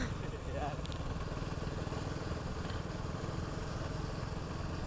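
A KTM Duke motorcycle engine runs steadily throughout a ride through a village, with a continuous rough mid-pitched drone and wind rush and a voice talking over it.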